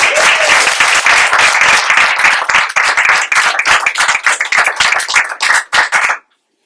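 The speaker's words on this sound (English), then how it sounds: "So first, a round of applause for coaches Chris Romano and Steve Nugent." Sustained applause at a school board meeting for coaches, dense clapping that thins into scattered claps toward the end before stopping abruptly.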